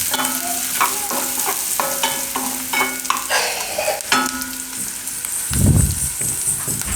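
Chopped onions stirred and fried in a pan for a vegetable lasagna, a steady close sizzle broken by repeated scraping and tapping of a spoon against the pan, with a louder burst of frying near the end and no one speaking.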